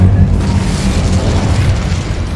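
Incendio fire spell blasting in the video game Hogwarts Legacy, a loud, sustained booming burst of flame with heavy low rumble throughout, no talking.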